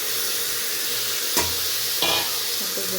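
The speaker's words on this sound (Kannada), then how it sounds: "ಈಗ ನೋಡಿ ಬೀನ್ಸು, ಕ್ಯಾರೆಟು ಸಣ್ಣಗೆ ಇಟ್ಕೊಂಡಿರ್ತೀನಲ್ಲ ಅದನ್ನು ಹಾಕ್ತಾಯಿದ್ದೀನಿ." Beans and carrots tipped into a hot pan for vegetable pulao, giving a steady broadband sizzle with a couple of brief stirring scrapes and clatters near the middle, close and loud with no talking.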